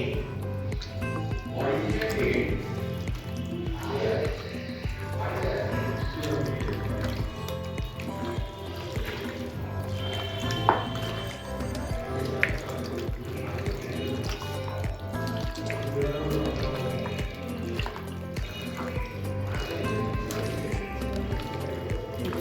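Chicken pieces mixed by hand with a thin cornflour coating batter for chilli chicken, making close, continuous wet squishing and dripping sounds.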